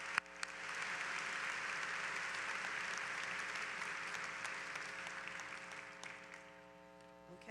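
A crowd at the Utica College 2014 undergraduate commencement claps for honors students: sustained, even applause filling a large hall over a faint electrical hum, tapering off near the end.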